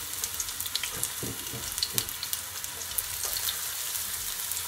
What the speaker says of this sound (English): And you're just gonna allow it to saute just for a couple of seconds.